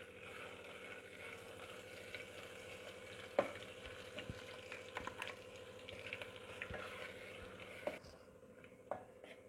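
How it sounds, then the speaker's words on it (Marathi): Ground spice paste for a village-style mutton curry frying in oil, a steady close sizzle with intermittent sharp scrapes and knocks of stirring, no voices. "मसाला आपण तेलात भाजून घेऊया."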